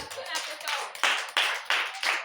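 A church congregation claps together in a few loud, sharp bursts, roughly evenly spaced, close by and with no other sound over them.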